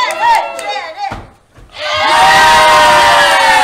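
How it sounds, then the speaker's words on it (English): An audience cheers and shouts at a live game show, with a burst of excited voices, a short lull, then a sustained loud crowd roar of cheering. "Cheer on, everyone. Come on!"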